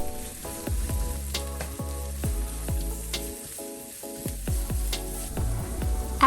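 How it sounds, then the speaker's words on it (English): Garlic and carrots frying in a hot, oiled pan for Korean japchae, a steady sizzle with regular tapping and scraping of a utensil against the pan, close and constant throughout. "In a hot and oiled pan, he starts off by cooking the garlic and then adds in the carrots."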